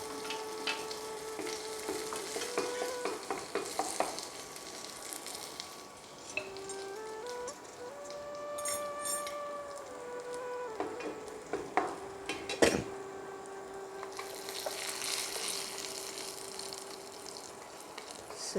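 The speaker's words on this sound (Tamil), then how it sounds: "லேசாக கருவேப்பிலை போட்டுட்டு தெரிக்கும், அதனால் நிதானமாக போடுங்க." Curry leaves dropped into hot oil splutter and sizzle in a pan while cooking a healthy cutlet, a steady frying hiss with crackles and a few sharper pops, close and moderately loud with no talk.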